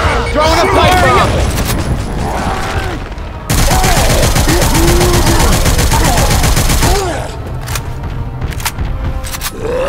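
Gunfire and a pipe bomb blast in the Left 4 Dead 2 zombie shooter, loud continuous shooting with heavy thuds, shouting voices throughout.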